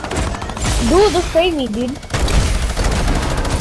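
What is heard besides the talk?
gunfire from a video game shooter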